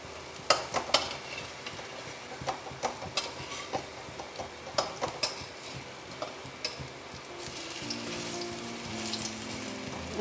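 Moong dal fritters (bora) fry in oil, a soft steady sizzle broken by a series of sharp clicks and taps from a utensil at an uneven rhythm, with no talking.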